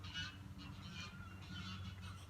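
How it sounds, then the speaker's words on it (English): Geese honk in a noisy flock, repeated loud calls overlapping close by against a low steady background hum. "The geese are going crazy."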